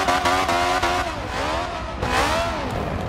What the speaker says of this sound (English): Okay, flashy drift there.